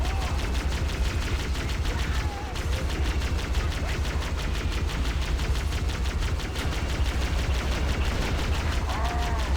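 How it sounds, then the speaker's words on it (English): Dense, continuous gunfire fills a Halo multiplayer match, with rapid repeated shots rolling on without pause and a faint voice somewhere underneath. "that guy's going ham on his sniper rifle"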